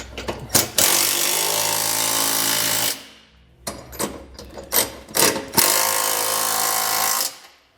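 A power tool with a 19mm socket buzzes in loud, close bursts, snugging trailer hitch bolts on a 2012 Ford Edge: a long run, a short pause, several quick pulses, then another long run.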